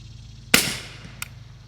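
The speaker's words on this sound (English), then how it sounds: "Nope, it got louder second shot." A single suppressed 9mm rifle shot with a YHM R9 suppressor, fired with 220 grain subsonic rounds, gives a sharp, fairly loud crack with a short fading tail, followed by a faint metallic tick.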